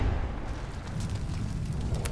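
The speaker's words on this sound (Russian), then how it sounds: "Я слышал взрыв гранаты." A grenade tripwire detonates in Metro 2033 Redux, heard as a deep, rumbling blast with a long low roar and crackling debris, loud and close, with no talk over it.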